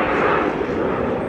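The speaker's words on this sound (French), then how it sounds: "c'est un avion, ouais, on est à l'aéroport." A loud airplane engine roars steadily at close range near an airport, a continuous broad jet rumble with no pauses.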